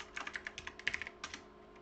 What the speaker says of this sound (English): forgive me for doing an extremely tedious typing exercise